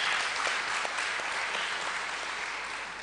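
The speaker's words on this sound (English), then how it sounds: "can I respectfully ask you to give my panel another big round of applause?" A conference audience applauds a panel on IMF and World Bank policies, a steady, full round of clapping from a sizeable crowd that holds even and then tapers slightly at the end.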